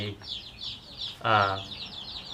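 A Burmese fighting rooster clucks nearby, giving several short clucks with one louder, fuller call near the middle, and a person talks faintly in the background.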